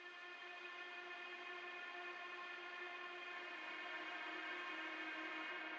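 A sampled string in a granular future garage vein holds a steady, sustained harmonic drone with a faint grainy hiss, quiet and unchanging for several seconds, with no voices.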